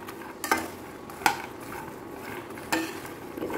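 Almonds, cashews and peanuts being roasted in a few spoonfuls of ghee while stirring: a soft steady sizzle with a few sharp spoon-against-pan scrapes and clinks, close by and with no talking.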